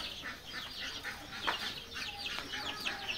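Red layer chicks, around twenty days old, give a steady chorus of thin, high peeps and chirps at low, even volume, many birds overlapping with no talking.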